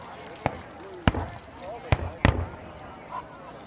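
Fireworks pop during a 2014 Fourth of July display: four sharp, separate bangs at irregular intervals, fairly close and loud against a quiet background with faint voices.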